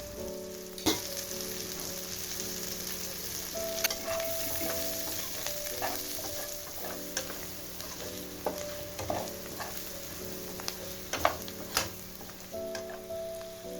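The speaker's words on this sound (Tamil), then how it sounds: "தனியாத்தூள், ஜீரகம் போட்டு வதக்கிக்கலாம்." Chilli powder, coriander powder and cumin sautéed in a pan give a steady low sizzle with scattered spoon taps and stirring scrapes, along with a faint sustained tonal hum in the background and no speech.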